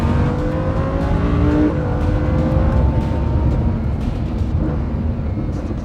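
A Lamborghini Huracán engine accelerates hard, its loud, raspy note climbing steadily in pitch through the gears, heard from close by with no talking.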